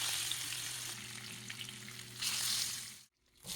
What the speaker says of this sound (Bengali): তেলটা গরম হয়ে গেছে এবার মাছগুলো এক এক করে দিয়ে দিচ্ছি